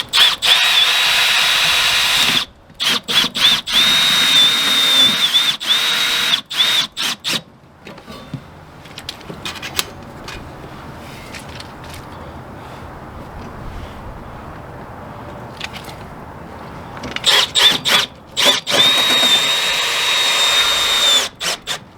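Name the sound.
power drill driving screws into wood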